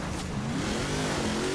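Truck engine revving hard in Forza Horizon 4 during a trucks-only King event, a steady close roar with pitch climbing gradually throughout, no talk.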